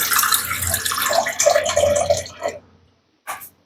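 Water runs steadily into a pot of rice for about two and a half seconds as the amount for cooking is measured out. It fades away, and a short separate splash or clatter follows.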